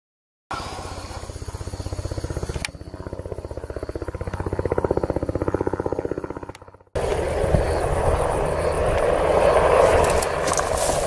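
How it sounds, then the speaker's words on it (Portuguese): Loud, steady rotor-and-engine roar of a landing helicopter with a brief dropout midway, then a harsher, louder rumble resumes as a military police helicopter starts up, close by and continuous. "helicóptero pousando, dá o start pro helicóptero da PM"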